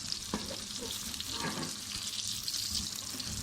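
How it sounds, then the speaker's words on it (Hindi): Chopped onions sizzle and crackle steadily in hot oil for a tempering, a close, continuous frying hiss with small pops throughout. "यहाँ पे प्याज का तड़का बनाने के लिए प्याज डाल दी है तेल में।"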